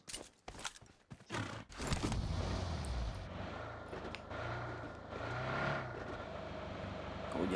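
A car drives in the PUBG Mobile video game on the Rondo map, its engine a low, steady drone rising slightly in level, after a few sharp clicks and knocks at the start.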